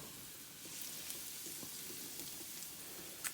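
Chili pepper browning in a cast iron pan gives off a faint, even sizzle with a few soft crackles and a small pop near the end, heard alone without talk.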